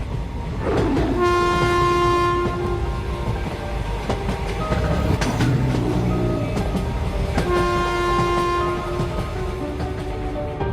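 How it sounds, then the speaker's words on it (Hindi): A cartoon train starts and rolls along, sounding long, loud horn blasts with a brief pause between them over steady rumbling and clattering wheels, with no speech. "तभी ट्रेन शुरू हो जाती है।"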